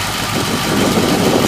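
A Ford 292 Y-block V8, bored .060 over to just over 300 cubic inches, fitted with an E4 cam and a four-barrel carburetor, idles with a steady, close, rumbling drone and no voices over it.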